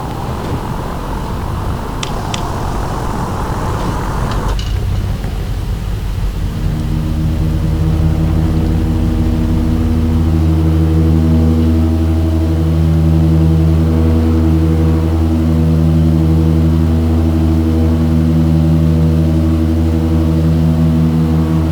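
Twin engines of an Aero Commander 500 restarting in a flight simulator game: a broad rushing noise gives way to rising, steady harmonic engine drone that settles into a loud, continuous hum.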